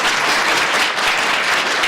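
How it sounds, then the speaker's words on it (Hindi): Steady, dense applause from a large crowd at a public health awareness gathering in New Delhi, filling the whole moment without a break. "एक बार ताली बजाओ इनके लिए"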